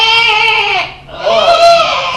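An infant cries in two loud, wailing bursts with a brief dip between them, close and alone with no talk.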